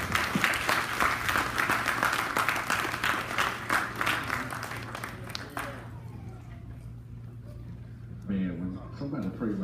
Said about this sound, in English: Y'all give God a hand clap of praise this morning.